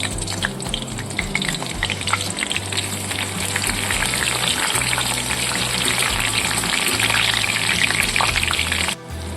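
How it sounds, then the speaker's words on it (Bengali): Cloves, cinnamon sticks and a home-grown bay leaf sizzle steadily in hot oil in a Bengali kitchen, a loud continuous crackling fry with no pauses. "ফোড়নগুলি খুব সুন্দরভাবে ভাজা হয়ে গেছে, গন্ধও ছেড়েছে।"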